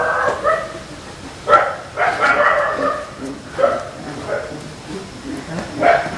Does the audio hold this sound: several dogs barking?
yes